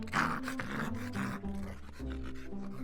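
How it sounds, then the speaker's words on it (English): A big, mean-looking dog gives a low, menacing growl, a sustained rumbling snarl that swells and dips for several seconds at moderate loudness. "they encounter a big, mean-looking dog blocking their way, growling menacingly."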